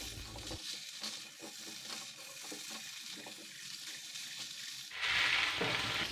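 Beans fry with chicken and spices in a pan, a steady crackling sizzle with scattered stirring clicks, then a louder, brighter hiss rising near the end as more heat or liquid hits the pan; no voices.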